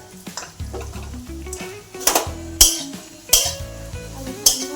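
Phodnichi poli, leftover flatbread in a spiced tempering, fries and sizzles in a pan while a spoon stirs and scrapes, with several clinks of utensil on metal, close and moderately loud, no talking.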